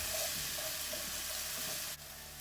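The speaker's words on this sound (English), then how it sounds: "Get these stirred in good." Chopped mushrooms and vegetables are stirred through a sizzling pan for a vegetarian breakfast hash, and a soft continuous frying hiss runs under light scraping strokes that drop away near the end.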